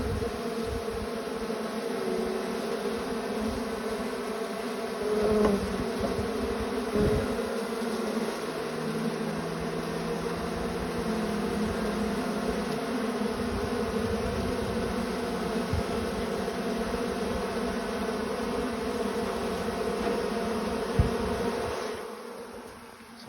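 Honeybees swarm around an open hive with frames being handled, a continuous close droning buzz that swells and dips slightly as individual bees pass near, with no voices.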